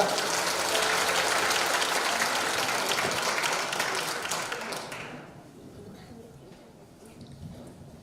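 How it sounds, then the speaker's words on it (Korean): A church congregation breaks into loud, sustained applause that fills the room for about five seconds, then fades away into quieter murmuring and scattered sounds. "큰 박수 해주시기 바랍니다"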